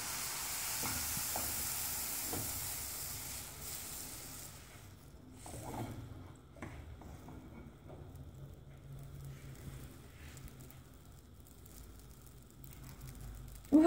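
Baghrir batter meets a hot non-stick pan with a soft, continuous sizzle and crackle, fairly faint and close, with occasional small clinks and taps from utensils and no voices.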